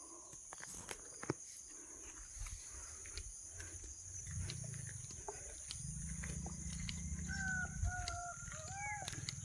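Peacock calls on the way up the Sri Siddharameshwara hill: a few short, faint, distant wailing cries near the end, over a steady outdoor hiss and a low rumble.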